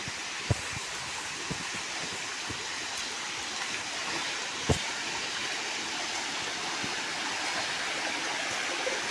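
Steady broadband rushing of a waterfall at Meiyanuththupatti, continuous and fairly close, with a couple of faint knocks and clicks and no voices.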